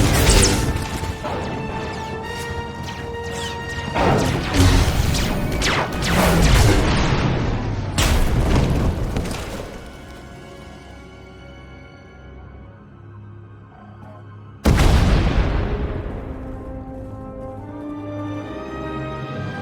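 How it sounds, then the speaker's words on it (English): Explosions and a collapsing tunnel in the Star Wars: The Old Republic video game, with a string of loud crashing blasts and rumbling debris, a fading stretch, then a final heavy impact that rings out. "We heard explosions, the tunnel collapsed."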